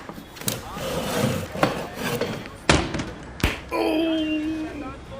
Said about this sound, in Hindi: डर के मारे दुकानदार नींद में कुर्सी से गिर गया।